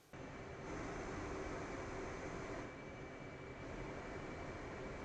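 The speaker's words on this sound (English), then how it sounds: "Taxiing a little slow here" Jet aircraft taxiing in the DCS flight simulator, a steady broadband engine roar with a faint high whine, constant and fairly even in level for the whole stretch.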